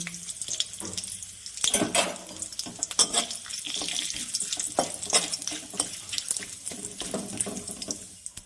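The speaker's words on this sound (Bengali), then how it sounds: "আমি তেলের মধ্যে তেজপাতা, গোটা গরম মশলা, গোটা জিরে ফোড়ন করে নিচ্ছি।" Bay leaf, whole garam masala and cumin seeds tempering in hot oil for a vegetarian potato and pointed gourd curry, a steady crackling sizzle with sharp pops and stirring scrapes, close and fairly loud, no talking.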